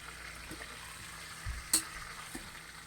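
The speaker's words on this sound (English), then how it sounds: "So I'm going to finish sauteing the last 2." Chicken sautéing in an Instant Pot gives a soft, steady sizzle close by, with a few faint utensil taps and clicks over the quiet frying.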